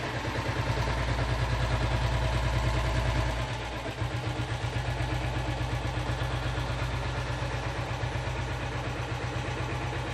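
A vintage Taurus diesel Bullet motorcycle idles with a loud, steady thumping beat and mechanical clatter, briefly dipping near the four-second mark before settling back into its even rhythm.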